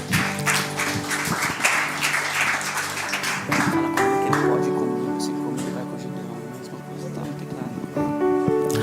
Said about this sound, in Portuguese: You may sit and let's clap for the Lord.